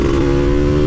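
A 124cc motorcycle fitted with a medium-small IRS aftermarket exhaust holds a loud, steady droning rev close by, its buzzing engine note constant throughout.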